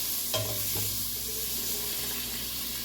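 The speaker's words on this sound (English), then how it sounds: "we're going to stir this butter and oil around till we brown the butter" Half a stick of butter and some oil sizzle in a pan on a lowered flame while being stirred to brown, giving a steady hiss with a couple of soft scrape clicks near the start.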